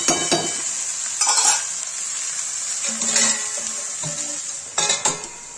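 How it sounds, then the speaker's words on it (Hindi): Okra and onion frying in a pan for bhindi do pyaza, with a steady close sizzle broken by a few scraping stirs and clinks of a spoon against the pan. "ये देखिए 10 मिनट के लिए ये भून रहा है"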